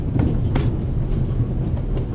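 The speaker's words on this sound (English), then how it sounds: "The noise on this train is driving me crazy." Interior noise aboard the Orient Express train: a steady, loud rumble of rolling wheels and carriage, with faint clicks now and then, continuous throughout and with no voices.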